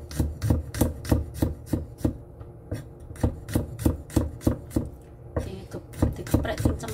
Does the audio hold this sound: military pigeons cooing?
no